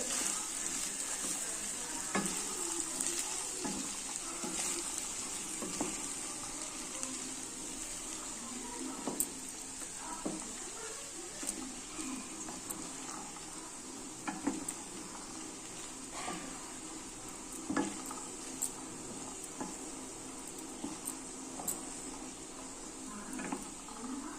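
A spoon stirs and mixes beach-style green pea chaat in a pan, giving a steady sizzling hiss with irregular scraping clicks and taps throughout, close and moderately loud, with no talking.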